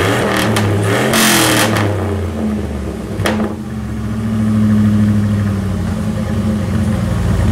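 A 2001 Dodge Dakota pickup with a straight pipe exhaust idles with a loud, raw rumble, broken by a sharp throttle blip near the start. Then the engine settles back into a steady, throaty idle close by.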